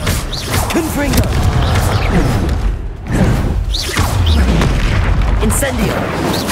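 Repeated spell explosions in the video game Hogwarts Legacy, deep booming blasts and thuds layered with battle effects and voices, loud and dense throughout with a brief dip midway.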